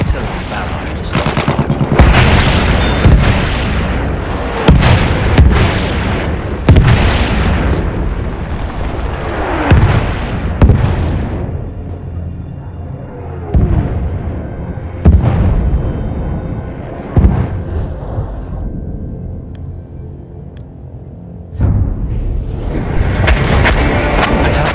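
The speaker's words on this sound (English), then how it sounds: "Wait for the enemy artillery barrage to stop." A Battlefield 1 artillery barrage rolls on: repeated heavy booms and blasts, some close and loud, mixed with gunfire crackle and rumbling, dense and continuous with brief lulls.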